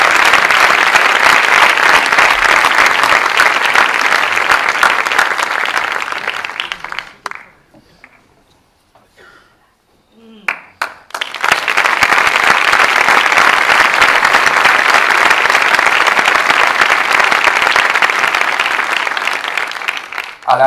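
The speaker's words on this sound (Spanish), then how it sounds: "damos un aplauso a su presidente, José Calle, que recoge una placa conmemorativa." Loud, dense applause from a ceremony audience at a Falange anniversary event as a commemorative plaque is collected, sustained clapping that fades to near silence for a few seconds, then bursts back up at full strength until the end.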